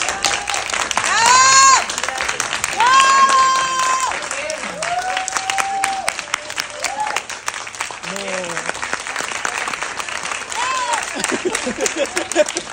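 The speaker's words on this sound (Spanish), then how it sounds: "me encantaría, por favor, de pie, darle un aplauso a nuestros actores" A cinema audience, standing for the film's actors, gives sustained dense applause, with cheers and whoops rising over the clapping throughout.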